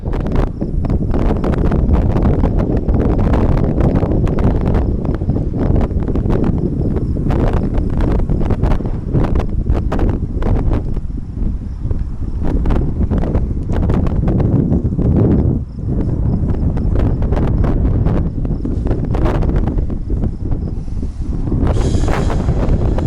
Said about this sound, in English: Yeah, kind of windy today.